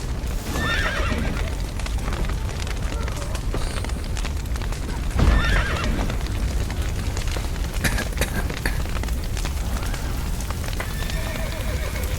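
Horses in Witcher 3 whinny and neigh several times while hooves clip-clop steadily over a busy game ambience of background noise, with a louder burst midway.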